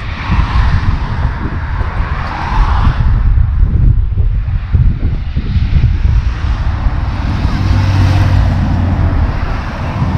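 Highway traffic rushes past near a truck accident, with vehicles coming from the Satara side on the road toward Pune. A loud, steady roar of engines and tyres continues throughout, with wind buffeting the microphone.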